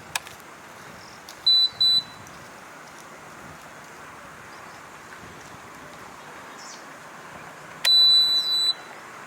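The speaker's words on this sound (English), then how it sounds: "Just kidding, but yeah, the beeps are really annoying" A River Indie electric scooter gives two short double electronic beeps near the start and a longer beep sequence near the end, sharp, close tones over quiet outdoor background hiss.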